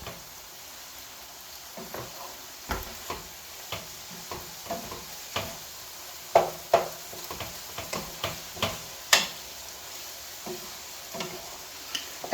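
A spoon stirs keto chili in a pot, giving a steady run of soft scrapes and light ticks against the side, close and fairly quiet with a faint sizzle underneath and no talk.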